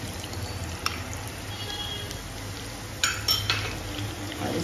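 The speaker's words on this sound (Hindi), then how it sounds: "ये ग्रीन चिलीज डाल देंगे" Green chilies tossed into a pan of tempering mustard seeds and red chili while cooking tomato upma, giving soft clinks and scrapes of utensils against the pan over a steady low kitchen hum, with a brief clatter near the end.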